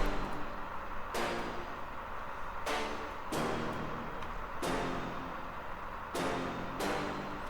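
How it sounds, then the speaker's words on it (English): A DP Beats tonal one-shot sample, used in a trap track, repeats as a wide, noisy, shimmering tone that retriggers about every one and a half seconds, steady and moderately loud with no voices. "We have this DP tonal one shot, which is a sample from DP Beats"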